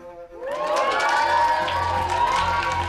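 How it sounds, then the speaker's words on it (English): A crowd of children bursts into cheering and excited shouting all at once, a loud, dense mass of high voices that holds steady for a few seconds. "They're only cheering because they know they don't have to go."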